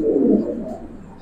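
Giribaz and coloured pigeons give a soft, low cooing burst close by, fading over about a second, with no voices.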